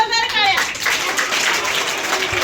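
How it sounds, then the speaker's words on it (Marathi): An audience of teachers at a Marathi Language Day quiz bursts into dense, steady clapping right after a brief voice, sustained and moderately loud throughout. "एकच जोरदार टाळ्या"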